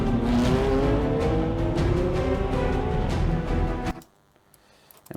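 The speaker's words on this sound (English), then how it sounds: "I hate this shot because the car's not going very fast" A car driving in edited footage, its engine roaring loudly and steadily close by for about four seconds before cutting off abruptly into near silence.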